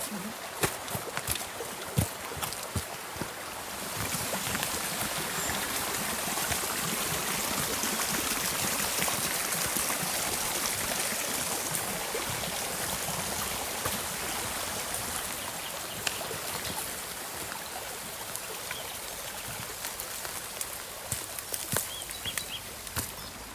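A calm forest stream runs steadily over stones beside a path, its broadband wash close and continuous. There are a few brief knocks near the start.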